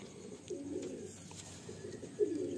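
Adult Kalasabuj pigeons at a loft in Garia, Kolkata, coo softly in several short rolling phrases, near but quiet against a calm background.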